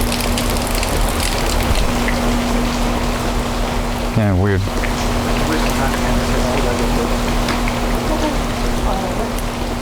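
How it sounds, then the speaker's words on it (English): Heavy rain pours steadily throughout, a dense constant hiss close around, with a brief conversation between men layered over it. "It's raining pretty bad too."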